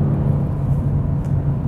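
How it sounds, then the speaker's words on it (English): A 2022 Genesis G70 engine pulling steadily through the mid-range around 2500 RPM, a smooth, sustained low hum and rumble heard from inside the car with no talking. "there was the power band I was talking about, 2500 RPM on the throttle"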